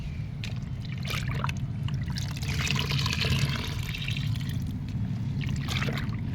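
Liquid fertilizer poured into the pot of an aloe vera plant, a steady close splashing trickle that runs evenly without pause and no talk over it.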